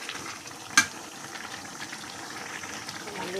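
A pot of water heats on a stove, giving a soft, continuous bubbling hiss with small fluttering crackles, broken once by a sharp metallic clink near the start.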